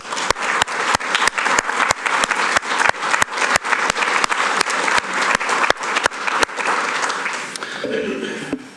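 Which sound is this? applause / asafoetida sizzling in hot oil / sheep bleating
applause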